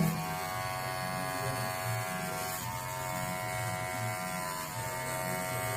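Electric hair clipper cutting a two-finger low fade haircut, a steady close buzz holding evenly throughout with no talking.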